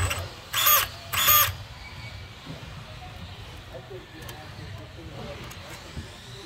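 Schumacher Cougar LD2 RC car electric motor revving in two short, loud bursts with its wheels held off the ground, followed by quieter workshop background.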